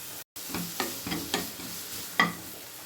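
Carrot, capsicum and cabbage with ginger garlic paste are sautéed in a pan for noodles, with a low sizzle and four or five distinct spatula scrapes in a loose rhythm, close and fairly loud, no speech.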